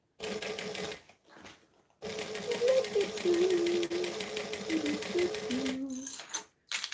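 Sewing machine stitching through the layered bulk of a bag, a steady fast mechanical whir with brief pauses and stops and a shifting motor pitch as speed varies, close and fairly loud.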